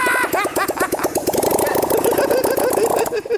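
A motorcycle engine runs with a bubbly, popping, burbling note, loud and close, revving up and settling over a few seconds, with no exhaust fitted.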